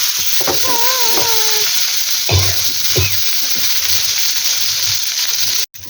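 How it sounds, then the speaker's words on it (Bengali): Eggplant slices frying in hot oil give a loud, constant sizzle, broken by a few soft scraping knocks as the pieces are turned over, before the sound drops out at the very end. "বেগুনের এক পিঠ ভাজা হয়ে গেছে, অপর পিঠটা এখন উল্টাই দিচ্ছি"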